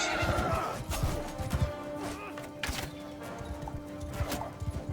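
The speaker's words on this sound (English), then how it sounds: "Look at that, a riderless horse with a weird-ass rein." A riderless horse whinnies loudly amid a Mount & Blade 2 Bannerlord battle, its drawn-out neigh rising over scattered hoof clatter and clashing noises of fighting troops.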